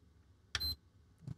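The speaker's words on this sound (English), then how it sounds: "Oh, it's still beeping" A single short electronic beep from a PlayStation 5 rings out in a quiet room, followed by a faint soft knock.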